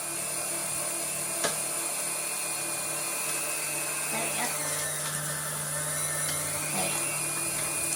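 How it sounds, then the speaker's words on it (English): A KitchenAid stand mixer running its food grinder attachment mincing meat into burger mince gives a steady high motor whine with faint grinding strain, close and continuous, with a voice briefly present. "the KitchenAid attachment for the food grinder is giving a really, really nice blend"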